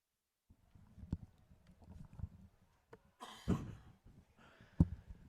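A man coughs and clears his throat as if something is caught in it, with several rough, low bursts followed by a louder, harsher cough and a final sharp hack, all close and clear.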